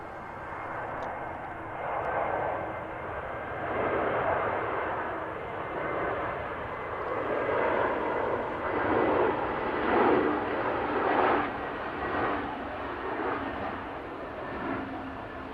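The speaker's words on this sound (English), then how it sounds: "Next aircraft in from Mallorca, EasyJet" An easyJet Airbus A320 arriving from Mallorca lands at Manchester Airport, heard as a steady, broad engine roar at moderate distance that swells and eases in slow waves, with no talking.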